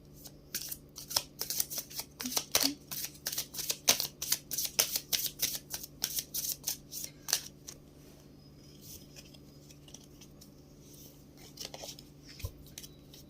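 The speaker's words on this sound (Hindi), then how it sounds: "जिन्हें भी ये शफलिंग पसंद नहीं है ना, प्लीज फास्ट फॉरवर्ड करके देख लेना" A deck of guidance cards is shuffled in close, rapid riffling bursts for about eight seconds, then the sound thins to sparse faint taps over a low steady hum, with no talking.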